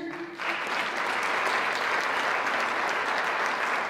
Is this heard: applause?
yes